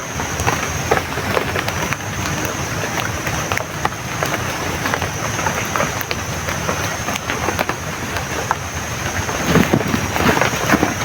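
Steady rain pours down outdoors in a continuous dense wash of patter with scattered sharper drops, fairly loud and unbroken throughout, with no clear talk over it.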